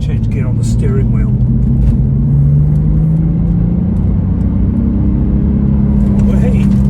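Porsche 996.2 with a 3.6-litre flat-six engine, driven on a twisting switchback mountain road, hums steadily and close up as the engine pitch rises slowly, with faint talk over the top.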